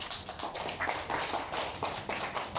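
Small group at a CPR and basic life support training session claps in quick, uneven bursts, fairly faint and close, with no talk over it.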